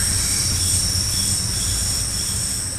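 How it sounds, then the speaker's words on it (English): A Class 314 electric multiple unit, a pair of 3-car units in Train Sim World 2 on the Cathcart Circle Line near Glasgow, rumbles loudly and steadily with a constant high wheel squeal and rolling rail noise. "This particular train is a Class 314 electric multiple unit and consists of a pair of 3-car units."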